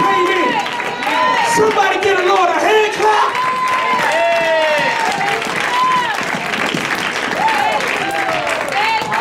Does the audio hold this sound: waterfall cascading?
no